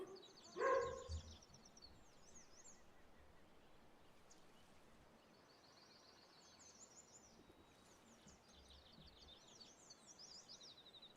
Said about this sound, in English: Get out of here with your random barking.